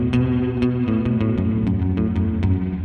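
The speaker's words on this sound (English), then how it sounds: "This is supposed to be a spring." A Donner HUSH-I PRO travel guitar with its built-in spring reverb, steady chords with regularly spaced bright picked accents ringing into a washy, reverberant tail, moderately loud and without talk.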